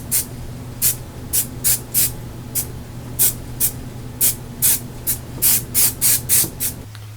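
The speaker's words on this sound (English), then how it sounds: "And then I will spray our glue on there." Repeated short bursts of spray adhesive from an aerosol can, about sixteen quick hisses in an irregular rhythm, close by over a steady low hum.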